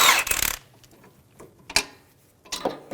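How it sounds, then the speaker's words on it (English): A 17mm socket on a ratchet loosens a sway bar link nut on a 2003-2008 Honda Pilot front strut: a burst of rapid clicking, then a few sharp separate ratchet clicks and metallic taps, close and clear. "17mm socket to remove the nut."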